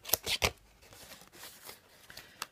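Scissors snip through card to cut pieces for a teapot-shaped exploding card, a few quick close crisp cuts followed by faint paper rustling.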